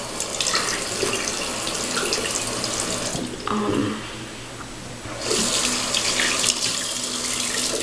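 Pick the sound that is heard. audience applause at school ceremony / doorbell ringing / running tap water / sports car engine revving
running tap water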